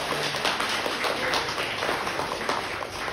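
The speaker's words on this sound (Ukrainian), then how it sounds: "давайте разом гучними оплесками подякуємо ще раз генеральному директору" Audience clapping at a company presentation in Kyiv, giving thanks to the general director: a dense, steady wash of applause from a room full of people, fairly loud and sustained throughout.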